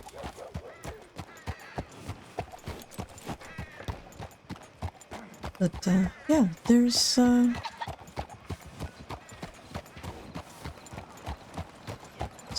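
Steady clip-clop of horse hooves in Red Dead Redemption 2 on a town street, an even rhythm of near hoofbeats throughout, with a brief whinny and snort in the middle and someone talking over it.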